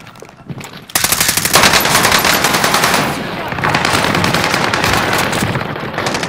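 Rapid automatic gunfire in the video game Warzone, a dense, loud burst of repeated shots that starts abruptly and continues for several seconds, partly overlapping with game effects.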